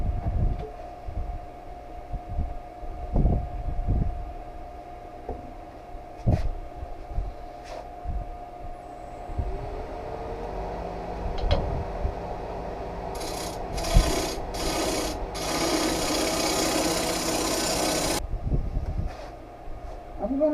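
A wooden box bottom being turned on a lathe with the tailstock brought up, steady low rumbling of the spinning wood with scraping and rubbing from the tool, growing into a louder harsh rasp before easing off, close by.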